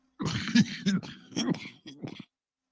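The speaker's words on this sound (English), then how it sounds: "Coughing fit." A person with asthma coughs and clears their throat in a quick cluster of rough, harsh hacks, close by, lasting about two seconds.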